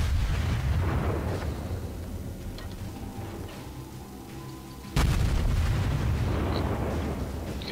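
Incoming shell fire and explosions in the World of Warships naval game: a steady heavy rumble of battle, then one sudden loud impact boom about two-thirds through, followed by continued roaring blasts.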